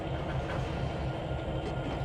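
Freight cars rolling into Riverpoint yard on the Tidewater route in the Trainz 2022 railroad simulator, a steady, dense low rumble with faint rail clatter that holds even throughout.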